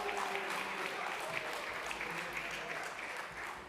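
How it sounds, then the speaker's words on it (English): At the close of a New York City Council stated meeting, the council chamber fills with sustained applause, a dense, even clatter of many hands, with faint voices underneath. "You may applaud."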